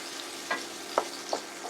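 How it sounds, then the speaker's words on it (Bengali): Potato pieces frying in oil in a pan for a Bengali fish curry, turning light brown, give off a steady sizzle broken by a few sharp crackles and stirring scrapes. "আলুগুলো একটু ভেজে নেব হালকা বাদামি করে।"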